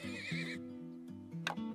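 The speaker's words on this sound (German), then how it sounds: "Ist gleich ein Pferdchen dazu." A horse neighs with a long wavering whinny in the PC game Turmoil, followed by a few brief clip-clop sounds over soft looping game tones.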